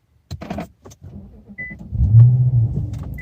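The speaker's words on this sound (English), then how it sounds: "turn the car on again." An Infiniti M-series sedan is started, a brief whir and electric motor whine followed by the engine catching into a steady low idle, close and fairly loud after a few soft clicks from the cabin.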